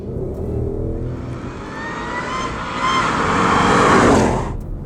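A powerful supercharged V8 in a 2015 Ford Mustang GT revs up close with a rising supercharger whine, the pitch climbing and swelling before cutting off sharply.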